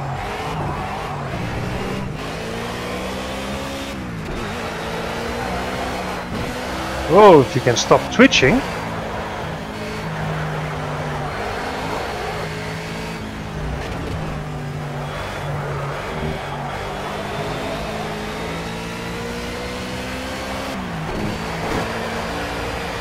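A Mustang race car engine in the Project Cars racing game drones steadily throughout, with a brief sharp rev spike partway through, while someone talks over it.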